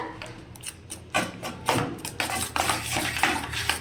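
A spoon works through food in a bowl, giving repeated scraping clinks and taps against the sides in an uneven stirring rhythm, close and moderately loud.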